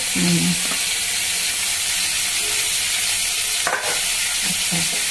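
Onion, tomato and green chili frying in a pan for prawn curry, a steady loud sizzle and hiss with a few soft stirring knocks, close up.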